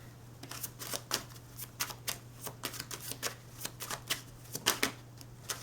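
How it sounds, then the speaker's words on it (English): Tarot cards are shuffled close up in a quick series of crisp riffling bursts and taps, with a faint steady hum underneath. "I am going to shuffle all the cards and then speak"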